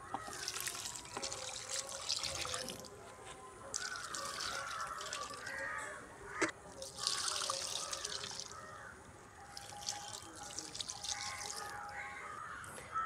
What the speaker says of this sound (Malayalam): അപ്പോൾ നമുക്ക് ഇതിനെല്ലാം നമുക്ക് ഒഴിച്ചു കൊടുക്കാം.